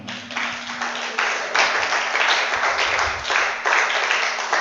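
Sustained clapping from a church congregation, dense and steady, rising in loudness partway through and continuing throughout without talk.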